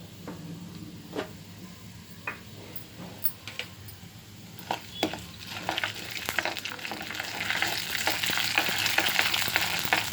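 Black peppercorns frying in a pan of hot fat for ven pongal, a close, crackling sizzle with scattered sharp pops that grows denser and louder toward the end, no talk.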